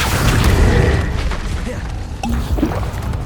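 Confringo fire spell explosions in the Hogwarts Legacy video game: loud, deep booming blasts with a heavy low rumble, set among busy combat effects.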